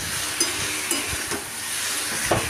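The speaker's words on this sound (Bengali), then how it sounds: "হলুদ দিয়ে আবারও নাড়াচাড়া করছি" Potato and potol with onion and turmeric frying in a pan while being stirred, a continuous sizzle broken by soft scraping thumps of the spoon at a loose rhythm.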